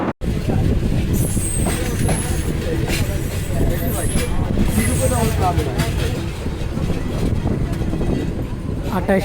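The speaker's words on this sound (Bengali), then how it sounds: "বিশাল কার্ভ নিয়ে ট্রেন ছুটে চলেছে আজমপুরের দিকে" The Parabat Express rolls steadily around a big curve, a loud continuous rumble of wheels and carriages with high wheel squeals rising and falling along the way.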